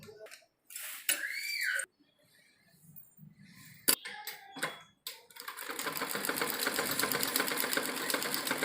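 A sewing machine stitches a belt onto a salwar, starting and stopping in short bursts before settling into a long, steady, rapid run close by.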